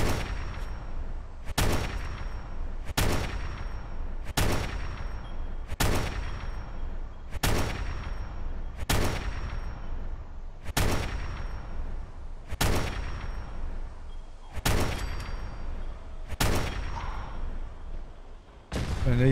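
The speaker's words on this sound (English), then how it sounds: "Get some rapid shots off" A rifle fires in the video game Fallout 4, eleven loud, sharp shots spaced roughly evenly about one and a half to two seconds apart, each with a short booming decay and no talk.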